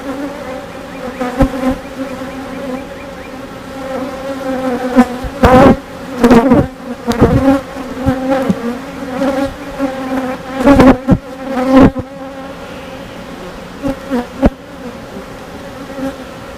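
Honey bees buzz loudly and close at an open hive during a beekeeping inspection of a feisty colony. A dense hum is broken by sharper buzzes as single bees fly past the microphone.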